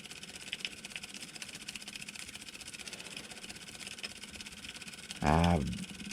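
A small LBSC-design model steam engine runs steadily with a continuous fine mechanical whir and rapid ticking, with a brief louder burst of noise near the end.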